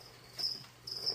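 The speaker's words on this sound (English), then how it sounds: "Little 10-gallon right here, pretty much just for crickets and whatnot" Crickets kept in a small 10-gallon reptile-feeder tank chirp in two shrill bursts, close and clear over a quiet room hum.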